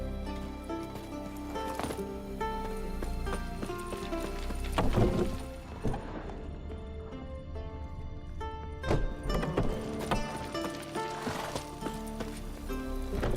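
Horse hooves galloping in The Witcher 3: Wild Hunt, a steady rhythmic clip-clop that carries on throughout beneath layered music, with a few heavier thumps along the way.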